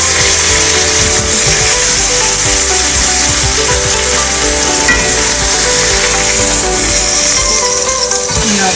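A T-bone steak sizzles as it browns in butter in a hot pan, producing a loud, steady frying hiss that continues for the whole stretch with no talking over it.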